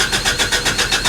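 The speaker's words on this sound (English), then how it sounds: "old key, give it a start, turn over" Engine of a Datsun 620 truck cranking over with a rapid, even pulsing rhythm, loud and close, with no voices.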